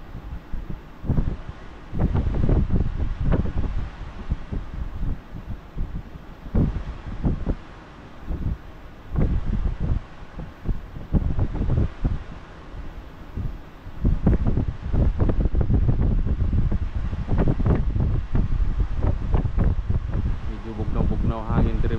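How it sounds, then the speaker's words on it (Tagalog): Strong cold wind buffets the microphone on the deck of a ship leaving dry dock and transiting Istanbul, Turkey, with loud gusty roaring and rumbling bursts throughout and someone talking over it at times. "Bugnaw hangin diri mga lodi. Kaya kusog-kusog hangin gamay."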